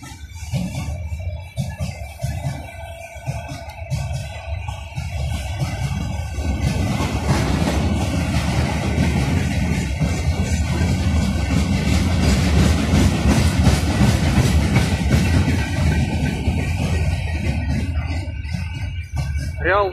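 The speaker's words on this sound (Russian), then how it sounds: "Ну все, поезд проехал." A freight train of empty goods wagons rumbles past nearby at Churilovo, Chelyabinsk, wheels clattering in a steady rhythm over the rails for a long stretch, loud and continuous.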